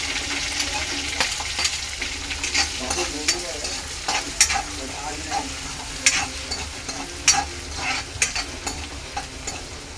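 Garlic frying in a pan for homemade semolina and flour pasta, a steady sizzle broken by frequent stirring scrapes and light clicks, close and continuous.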